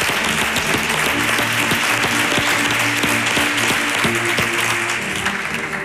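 A standing audience gives a sustained ovation in a Spanish television studio, a dense, loud wash of applause that runs steadily and close-up for the whole stretch, with no voices standing out above it.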